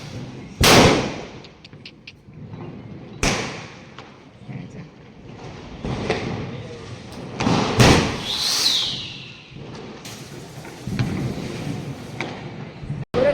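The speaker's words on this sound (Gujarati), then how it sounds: "બધા ફટાકડા ફોડે" Diwali firecrackers burst outdoors on a noisy festival night near a Hanuman temple: a handful of loud, sharp bangs spaced several seconds apart over a steady crowd murmur, with a brief whistling crackle between.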